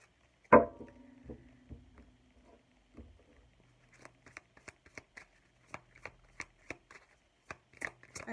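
Tarot cards are handled: one sharp slap and a brief riffle, then a quiet pause followed by a series of light, irregular card snaps and taps while cards are drawn.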